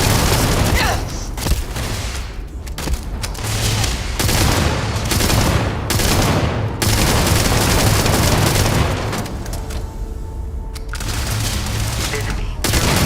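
Heavy combat in Starfield: grenade blasts and gunfire rumble in loud, sustained volleys with booming impacts, and a voice talks briefly among the noise.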